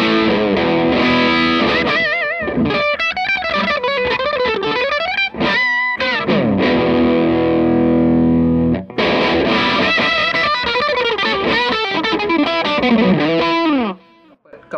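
Electric guitar run through a Bjfe Model G effect pedal with knob C turned to minimum, giving a loud, distorted, compressed tone as chords and quick melodic phrases are played with a couple of brief pauses.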